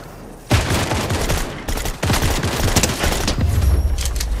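Video game gunfire bursts out in a loud, dense volley of rapid shots that keeps rattling for about four seconds, with no talking over it.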